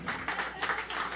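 A live-music crowd cheers and claps for Nick, producing a brief wash of mixed clapping and cheering voices that rises and falls in a few quick swells.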